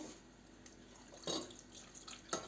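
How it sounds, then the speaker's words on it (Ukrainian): Water poured a little at a time into a cooking pot while stewing cabbage patties with tomato paste, faint trickles and splashes with two short louder bursts near the end. "Ще доливаємо трошки води"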